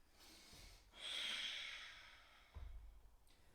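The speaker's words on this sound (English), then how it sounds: "Breathing in, breathing out." Audible breathing during a flowing Pilates floor exercise: a long, soft breath out swelling and fading, followed by a sharper, breathy intake, close and quiet with no talking.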